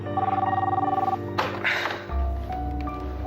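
A telephone bell ringing at 3 a.m. in a drama scene, a fast regular trill of rings that stops after about a second, followed by shuffling and a low hum.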